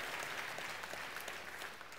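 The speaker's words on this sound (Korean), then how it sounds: "여러분께 박수로 환영하시죠" Congregation in a church gives steady, dense applause to welcome newcomers during a Sunday service, filling the room evenly from start to finish without any voices.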